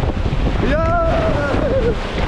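Big waves whipped up by Typhoon Jenny and the monsoon crash and roar against a service boat, loud and close with heavy wind rumble on the microphone, while a man briefly exclaims over the surging water.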